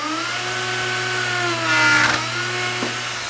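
A wood router fitted with a bottom-bearing bit whines steadily as it cuts wood, a loud continuous motor drone with a brief rise in grinding intensity midway, heard alone with no talking.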